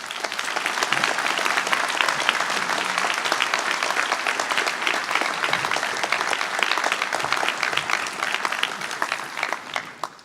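Sustained applause from a commencement audience welcoming speaker Alex Gorsky at the 2013 Wharton MBA for Executives ceremony in Philadelphia, a dense steady clatter of many hands lasting about ten seconds before tapering off at the end.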